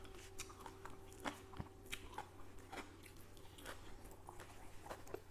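Close, quiet crunching and chewing of Thai pickled vegetables (som phak) eaten with mackerel chili dip, irregular crisp bites and soft mastication repeating throughout.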